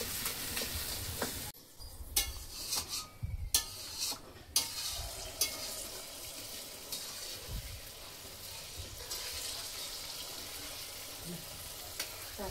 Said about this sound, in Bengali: তারপর কচু ভাজা